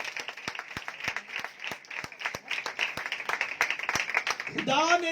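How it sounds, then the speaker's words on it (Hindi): An audience at a Sunday church meeting claps for the Sunday school children, sustained dense applause with sharp individual claps, and a voice speaks over the end. "संडे स्कूल के बच्चों के लिए जोरदार तालियां।"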